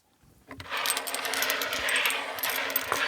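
Coins tossed to draw I Ching hexagrams make a bright, dense jingling clatter as they are shaken and land, close and continuous after a quiet start.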